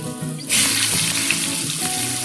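Raw potatoes go into hot oil with a sudden loud sizzle that keeps going as a steady, close hiss of frying for a Bengali soya chunk curry.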